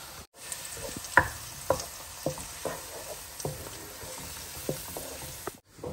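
Tomato puree is stirred into green chilies frying in a pan, with a constant sizzle and a steady series of spoon scrapes and knocks.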